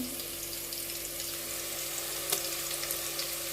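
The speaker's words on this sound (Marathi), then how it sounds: "आता याच्यामध्ये टाकते अद्रक लसण पेस्ट" Ginger garlic paste is added to a hot pan while making chicken pulao, giving a steady close sizzle with a few sharper crackles and spits. No one speaks.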